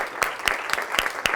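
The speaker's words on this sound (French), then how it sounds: "Merci beaucoup Philippe, je pense qu'on peut l'applaudir parce que c'était..." Sparse audience applause following a masterclass talk on organisational transformation, a few distinct claps spaced out in a loose rhythm, fairly close and moderately loud.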